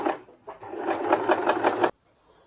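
A sewing machine stitches a fabric butterfly in one short, rapid run of close mechanical whirring, stopping sharply after under two seconds.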